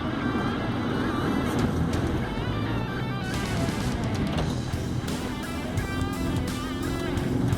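A Tata Hexa SUV drives hard off-road through dust, a loud continuous engine and tyre rumble mixed with gravel crunch and buffeting wind, with no speech.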